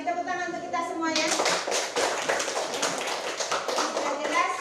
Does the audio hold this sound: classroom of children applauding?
yes